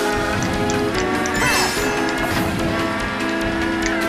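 Race car tyres squeal in a racing video game, a sustained, loud screech that rises and falls over steady engine roar, with no voices over it.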